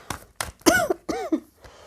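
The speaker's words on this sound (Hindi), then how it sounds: "मेरी खांसी को थोड़ा इग्नोर करिए प्लीज़" A short run of harsh coughs, about four or five rough bursts with brief pauses between them, close and fairly loud.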